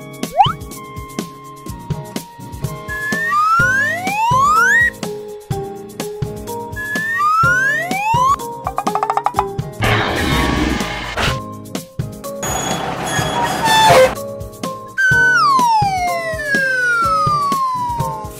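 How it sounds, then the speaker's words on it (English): Rising and falling siren wails repeat in bursts, separated by short rumbling and clattering stretches, loud and close throughout. "Ambulance."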